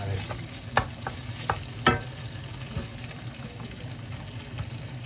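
Fish roe stir-fried with golden garlic in a hot pan for a holy basil dish, with a steady low sizzle, scattered spatula scrapes and a few sharp clacks against the pan, and no voices.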